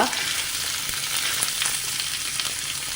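Chopped onions frying in a pan for egg curry, a steady close sizzle and crackle holding evenly throughout with no voices.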